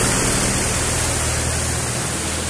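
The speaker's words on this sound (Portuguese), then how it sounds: "vai fazer uma onda aqui atrás de mim, um caminhão" On a flooded street in Piedade, Jaboatão, Brazil, a truck pushes through deep water, producing a loud, continuous rushing wash of spray and splashing that fills the short stretch at a steady close level.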